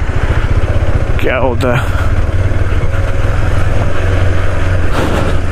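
A KTM motorcycle rides past outdoors with its engine droning loud and steady, one rising, revving pass standing out, while people talk over it throughout.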